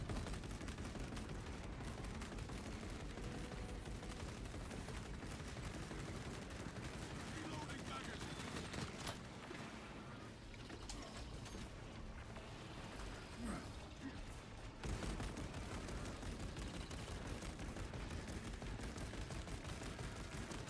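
Gunfire in Space Marine 2, rapid continuous shots and mechanical rattling in a loud, dense barrage that briefly eases midway before resuming, with a voice talking over it.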